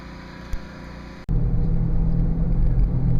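A Chevrolet Venture minivan, just fitted with a new wheel bearing hub, drives on a test run at about 30 mph. A faint cabin hum breaks off abruptly and is replaced by a loud, steady low road and engine rumble.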